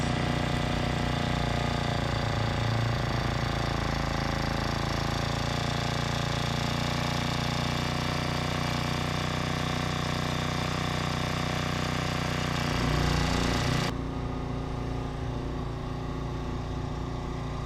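A BLAZE 49cc gas scooter engine running after an idle adjustment, a loud steady buzzing drone that holds even for most of the stretch, briefly swells, then shifts to a slightly different, duller tone near the end.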